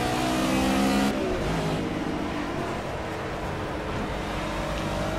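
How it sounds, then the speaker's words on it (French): Race cars, including an Audi R8 and an Aston Martin, roar past during a GT Touring qualifying session at Road America in the video game Project CARS, with a loud engine burst in the first second easing into steady continuous engine noise. "il y a une Aston Martin qui aimerait bien passer, suivie par une Audi R8"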